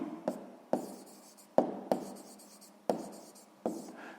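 A pen writes on paper while working through a sixth-grade math equation, giving about six sharp, separate scratchy strokes with short pauses between them, close and clear, with no talking.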